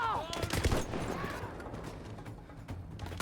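Gunfire in the Battlefield 1 Revolution campaign, with a rapid burst of loud close shots at the start followed by trailing echoes and scattered fainter shots under a busy battle din.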